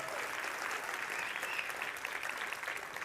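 A crowd claps to vote for choice B, a fairly faint but dense and even wash of applause lasting a few seconds with no talking over it.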